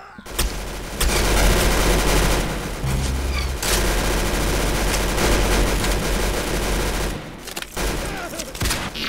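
Rapid bursts of gunfire from the Roblox shooter game Arsenal, dense and loud, crackling almost continuously with brief gaps and a few heavier booms.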